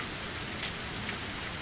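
Rain falling on a rainy night in the visual novel Higurashi When They Cry, a soft, steady patter that stays even and fairly faint throughout.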